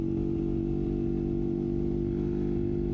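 Engine of a 1973 Honda CL350 motorcycle with a lean condition, heard while riding and shifting up through the gears; a steady, loud, close low drone with a buzzing harmonic tone and no voices.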